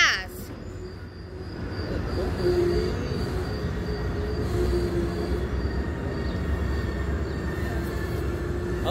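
A MARC commuter train passes through New Carrollton station, a sustained loud rumble of rolling wagons with faint wheel squeal and steady rail noise, with a person talking briefly at the start.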